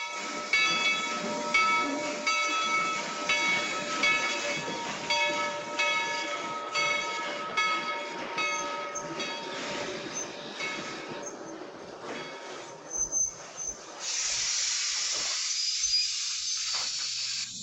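A train with railroad cars, including a private passenger car, rolls past in a Western setting, a loud continuous rumble with rhythmic wheel clatter and a bright hiss of steam or brakes toward the end.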